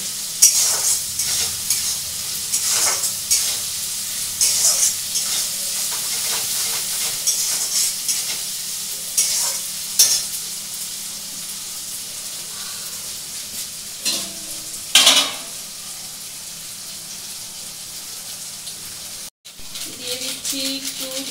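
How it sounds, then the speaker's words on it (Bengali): Ginger and garlic paste fries with onions in a pan, a steady close sizzle broken by repeated bursts of scraping and stirring, with a voice talking at times. "এখানে রয়েছে আদা আর রসুন বাটা, এটাও পেঁয়াজের সঙ্গে ই করে দিচ্ছি, ভাজা ভাজা করে দিচ্ছি"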